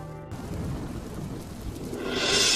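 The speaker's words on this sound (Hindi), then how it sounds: "बाहर कितनी सुंदर बारिश हो रही है।" Rain falls steadily outside with low rumbling thunder beneath it, the wash of the downpour growing louder and brighter toward the end; no voices.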